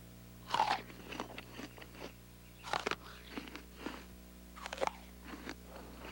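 Crisp crunching bites into an apple from an orchard, followed by wet chewing, three distinct close bites spread over a few seconds with quieter chewing between them.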